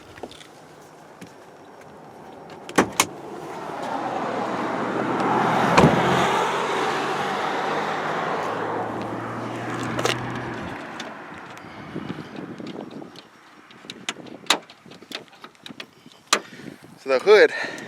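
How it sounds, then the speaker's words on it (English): The heavy hood of a 1998 Lexus LS 400 is released and lifted: several sharp metallic clunks and latch clicks are spread through the stretch, with a person talking over low background noise. "I'm going to pop the hood so you can see the motor."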